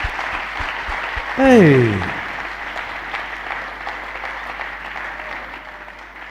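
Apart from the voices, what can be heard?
congregation applauding in church service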